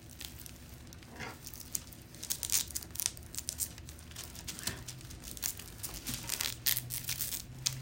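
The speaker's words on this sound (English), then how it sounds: "Sounds like I'm tearing up Scotch tape." A sheet is peeled off a decorated tile tray, giving a close, crackling tear like ripping Scotch tape, with irregular bursts of sticky crinkling and snaps continuing throughout.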